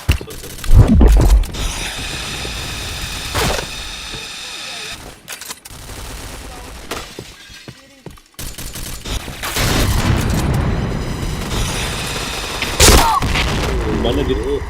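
Grenade blasts and rapid automatic gunfire fill a PointBlank shooter match: sharp booms and dense bursts come in waves, with brief lulls and mechanical clicks between them, and players talk throughout.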